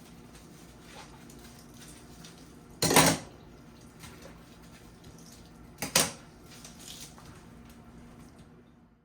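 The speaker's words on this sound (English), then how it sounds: "as I wash utensils" Two sharp clattering knocks of utensils in a sink of hot soapy water, separated by a few seconds, over faint sloshing and dripping.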